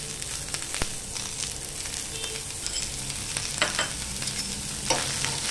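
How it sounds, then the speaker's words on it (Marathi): Chopped onion and garlic fry in two spoonfuls of oil over a low flame, a soft continuous sizzle with occasional stirring scrapes and small crackles, close and fairly quiet, without talk. "आता आपण कांदा आणि लसूण सुद्धा छान असं भाजून घेऊया. दोन चमचे तेल टाकूया."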